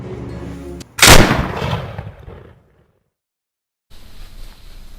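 A single loud, sharp gunshot fired in a duel at close range, followed by a decaying echo, then brief silence before faint ambient sound returns.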